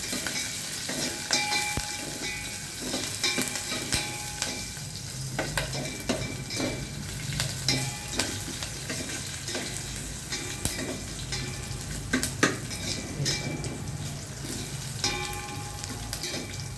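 Cumin seeds and dried red chilies frying in oil as the seasoning for upma, a steady close sizzle with frequent scraping stirs and light clinks of a spoon against the pan, no voices.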